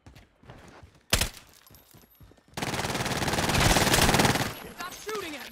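Automatic gunfire sounds in a video game: a single sharp shot, then a sustained loud burst of rapid fire lasting a couple of seconds, with background game noise and a voice speaking around it.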